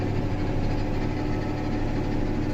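A tractor engine idles during hay cutting, heard from inside the closed cab with the air conditioning running, a steady low rumble and hum that stays even and unbroken throughout.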